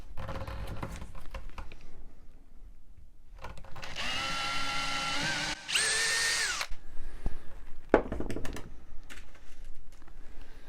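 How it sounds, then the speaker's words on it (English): A power drill pre-drilling a hole in wood whirs at close range in two short bursts, winding up and spinning down, with quieter handling noises and taps before and after. "I'm going to pre-drill a hole."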